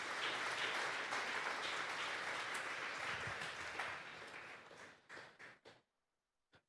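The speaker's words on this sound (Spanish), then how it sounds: "Denle un fuerte aplauso pues al Señor." A church congregation at a Sunday service gives strong sustained applause that fills the room, then thins into a few scattered last claps before fading to silence.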